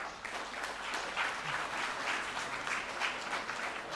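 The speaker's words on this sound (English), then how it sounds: "Let us all give a big sound of applause to Surya Raghuram." Audience applause at a college brainstorming session, a dense, steady clatter of many hands clapping for several seconds without a break.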